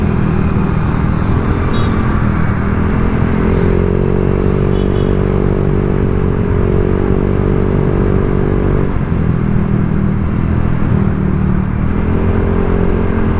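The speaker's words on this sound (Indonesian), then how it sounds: "Intinya nih knalpot kalau gasnya kalem adem cuy. Kalau agak dibejek rada teriak, cuma masih ngebas gitu cuy." A Honda Vario 125 scooter fitted with a racing exhaust revs close by, a loud, deep, bassy engine drone with rising and falling throttle blips over a steady idle, no talking.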